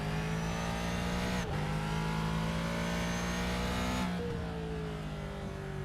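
A GT race car in a sim racing game laps Virginia International Raceway (VIR), its engine droning loud and close as pitch climbs steadily through the gears, with two brief drops at shifts.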